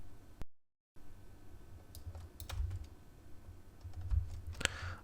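Mouse and keyboard clicks while working in Blender, a scattering of sharp taps through a quiet room, with two slightly stronger clicks near the end.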